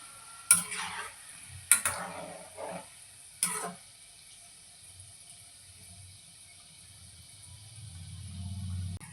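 Shankarpali frying in oil until golden, a faint steady sizzle broken early by a few sharp clinks and scrapes of a utensil against the pan.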